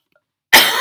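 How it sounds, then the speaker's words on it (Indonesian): A single harsh cough bursts in after a moment of silence, loud and close, trailing into a rough breathy tail. "Batuk terus."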